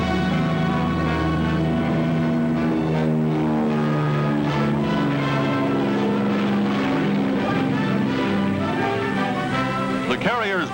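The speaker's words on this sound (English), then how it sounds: "Enemy planes attacking in force." Attacking enemy warplanes drone overhead, a loud, sustained propeller-engine roar with steady pitched harmonics that swells and shifts near the end, heard in a wartime carrier battle scene.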